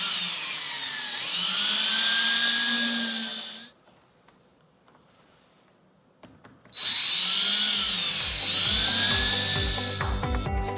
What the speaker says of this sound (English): I can actually place that screw and go through without pre-drilling through the shims.